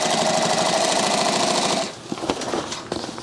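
A sewing machine with a binding attachment stitches a backpack, a loud steady mechanical whir that stops abruptly, followed by scattered clunks and rattles of the fabric being handled.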